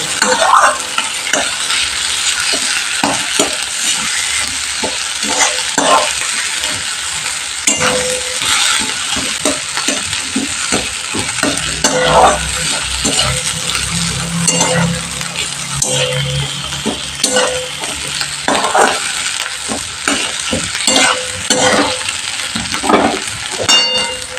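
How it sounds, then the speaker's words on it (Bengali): Loud, continuous sizzling of potatoes frying in a little oil, with frequent scraping and clinking as a spatula stirs them around the pan. "দেখো আলুটা আমার লাল লাল করে ভাজা হয়ে গেছে"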